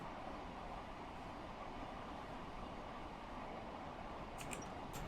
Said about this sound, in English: Another high-speed train on the other line there.